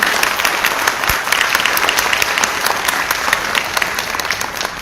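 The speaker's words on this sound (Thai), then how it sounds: "ขอเสียงปรบมือ" An audience at a Thai business forum on trade and investment in Laos, held on Lao National Day, breaks into loud, sustained applause with many overlapping claps filling the whole stretch.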